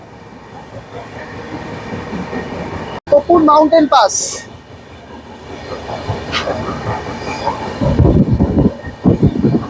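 A train passes through a mountain pass in the Western Ghats, its rumble and rail clatter rising near the end, with a loud burst of noise partway through and someone talking over it.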